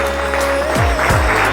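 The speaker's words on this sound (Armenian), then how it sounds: "Դե վերջին ծափերը" Wedding guests giving a final round of applause, steady clapping mixed with a sustained tone and low swooping sounds, fairly loud and close.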